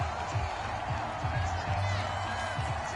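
A big football stadium crowd at a Ravens game roars in a steady, loud wash of displeasure, with a commentator's voice talking over it.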